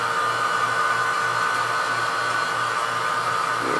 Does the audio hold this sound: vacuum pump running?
yes